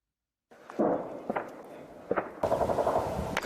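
Gunfire and shelling around an airport's new terminal in wartime: sharp cracks and short bursts ring out over a rumbling background, some shots louder and nearer than others.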